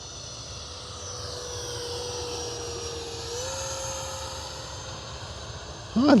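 An FMS F-16 64mm EDF RC jet on a 4S pack gives a steady ducted-fan whine and rush that rises and falls as it passes, with a short burst of voice near the end.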